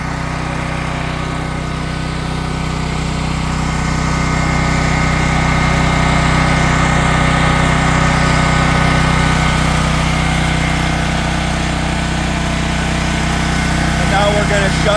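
A Champion dual fuel portable generator runs steadily on propane, a constant loud engine drone with a steady low hum throughout, close by and alone without talk.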